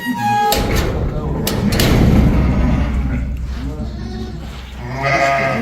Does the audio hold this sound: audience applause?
no